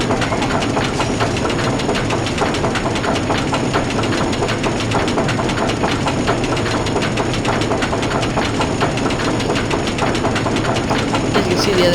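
Roller coaster trains running in RollerCoaster Tycoon, a steady loud rumble of rolling cars with rapid clattering track clicks that continues throughout, mixed with busy park ambience.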